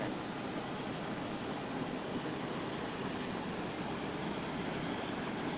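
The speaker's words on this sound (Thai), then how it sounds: "ตรงนี้มันมีเสียงเครื่องยนต์อยู่เต็มไปหมดเลยฮะ" A constant loud roar of aircraft engines fills the air at the LIMA Airshow in Malaysia, steady and unbroken, running nearby with no talk heard.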